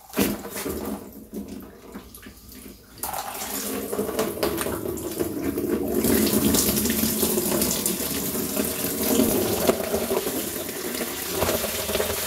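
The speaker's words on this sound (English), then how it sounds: "Okay, we've drained the coolant now" Coolant drains from a Renault Trafic 1.9 dCi F9Q radiator in a steady splashing, gushing stream, close and continuous, growing fuller and louder partway through.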